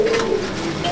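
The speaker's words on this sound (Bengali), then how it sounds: "চোখে কালো দানা নিয়ে আমার কালডোমা পায়রা" A Kaldoma pigeon, a Madrasi loft breed with black-dotted eyes, coos in a soft low murmur close by. The sound is steady and brief, with dense background noise around it.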